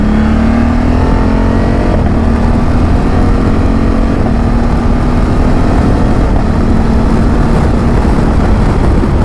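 Honda Africa Twin motorcycle pulling hard with a loud, steady engine note that climbs in pitch, with brief dips around two and six seconds marking smooth quickshifter upshifts, engine close and continuous throughout.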